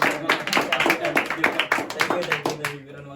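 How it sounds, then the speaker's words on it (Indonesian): A group claps in quick, uneven bursts at close range for a few seconds, with voices audible alongside the claps before they die away. "Apa dikit-dikit tepuk tangan"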